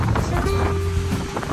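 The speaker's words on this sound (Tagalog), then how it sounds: "Naabutan ng ulan eh." Heavy rain pours down steadily during a sixth-lap pigeon derby, a dense, unbroken roar of downpour with faint tonal hums underneath and no speech.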